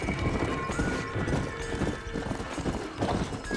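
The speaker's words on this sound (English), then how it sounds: "undead horse." An undead horse gallops in the video game Red Dead Redemption: Undead Nightmare, its hooves beating a fast, steady clip-clop with a faint whinny under the game's background sound.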